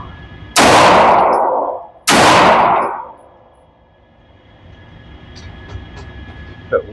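Two slow, aimed shots from a WatchTower firearm at range targets ring out about a second and a half apart, each a loud, close blast with a trailing echo, followed by quiet.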